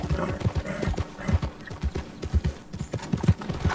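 Horse hooves clip-clop at a steady trotting rhythm in Red Dead Redemption 2, close and prominent, with light background game ambience throughout.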